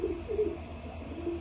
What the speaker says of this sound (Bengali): হাই কোয়ালিটি একজোড়া কালদম কবুতর আছে।